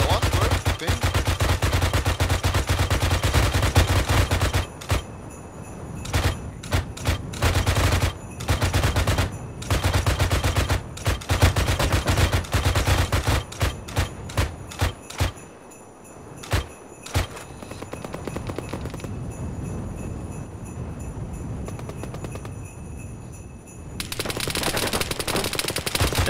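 Sustained bursts of automatic gunfire during an Arma 3 firefight near a large warehouse, loud and rapid with short gaps between strings, and voices talking between the bursts.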